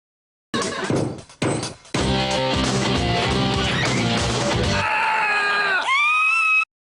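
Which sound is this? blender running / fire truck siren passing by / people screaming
people screaming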